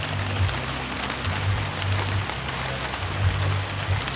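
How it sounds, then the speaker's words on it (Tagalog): Steady rain hisses as a constant wash of noise over a house construction site in Muntinlupa, with a low humming tone pulsing faintly underneath. "hindi na yata titigil yung ulan. Ayan, palakas na ng palakas."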